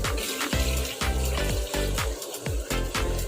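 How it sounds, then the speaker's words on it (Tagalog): Water is poured into a cooking pot of guava-soured sinigang, coming in pulsing gushes about every half second, close and fairly loud. "Lagay tayo ng tubig."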